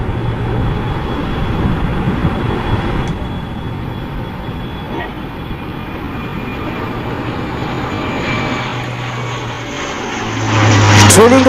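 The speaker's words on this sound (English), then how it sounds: "Trailing the formation is another golden oldie, the ever-dependable MiG-21." Aircraft formation including a MiG-21 passing at an air show, a loud continuous jet roar that swells sharply near the end, with a faint voice underneath.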